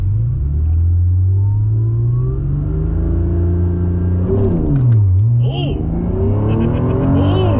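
A Honda NSX engine rumbles loudly at idle, then revs up and drops back in a swooping rise and fall, with a person exclaiming over it.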